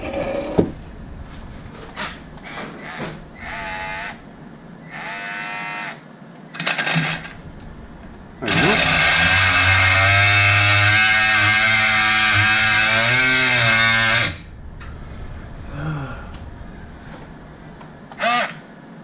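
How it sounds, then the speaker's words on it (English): An AEG 12V battery multi-tool cutting through a metal bolt, a loud, sustained buzzing grind lasting several seconds, framed by scattered clinks and handling knocks before and after. "We're just going to cut straight through the bolt there."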